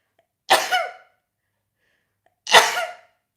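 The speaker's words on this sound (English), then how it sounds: "I'm going to sneeze in just a moment." Two sharp sneezes from a single person, each a sudden loud burst trailing into a short breathy tail, separated by about two seconds of silence.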